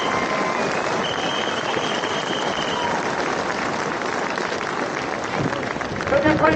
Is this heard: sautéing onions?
no